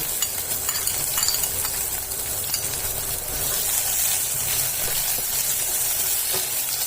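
Chopped onions fry lightly in a wok, a steady close crackling sizzle with scattered spatula stirs and faint clinks, no talking.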